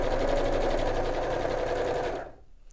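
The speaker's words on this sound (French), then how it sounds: "vous allez tout simplement coudre toutes les coutures" A sewing machine stitches quilt seams for an Irish chain quilt with a close, steady, rapid whirring hum that runs continuously before stopping near the end.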